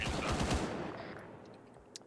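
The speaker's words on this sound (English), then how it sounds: "Yeah, that would be this ZU cannon." A ZU anti-aircraft cannon fires in a tactical military video game, a rapid loud burst of heavy automatic shots that fades away, followed by a couple of faint distant pops.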